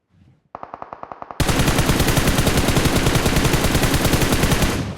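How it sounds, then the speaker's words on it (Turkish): A couple of faint video game shots, then a quick rapid burst and a long, loud stream of automatic gunfire. "Göremediği adama sıkan Ferdi"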